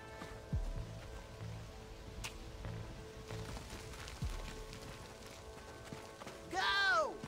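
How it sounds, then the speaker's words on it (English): Galloping horse hooves in Red Dead Redemption, a soft rhythmic clip-clop running through the clip under game ambience and music, with a louder swooping sound near the end. "esse cavalo é muito rápido, cara"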